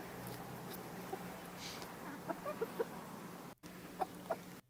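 Chickens clucking nearby, a few soft scattered clucks and short calls over a low background hum, quiet and intermittent.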